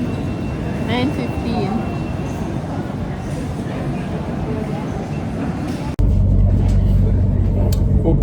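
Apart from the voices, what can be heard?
train at a London railway platform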